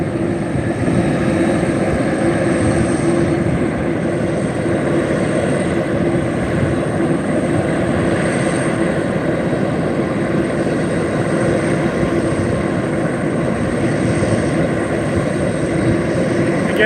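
An MD-11 jet airliner departing Reno airport, heard as a loud, steady broadband engine roar that holds constant and close throughout with no voices.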